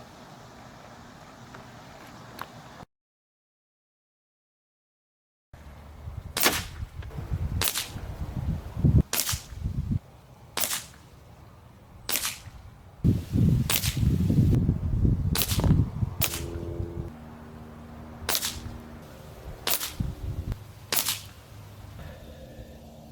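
A Benjamin Fortitude regulated PCP air rifle is fired at a target while being sighted in, giving about a dozen sharp, close cracks spaced a second or two apart over quiet room noise.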